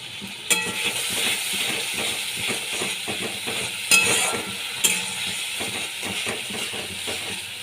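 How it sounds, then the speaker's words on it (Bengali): Spice masala with cumin powder fried and stirred in a pan for a small hilsa curry, a steady close sizzle under repeated rhythmic scraping of the spatula, with a few sharp metallic clinks against the pan. "ভালো করে কষিয়ে নিতে হবে মশলাগুলোকে"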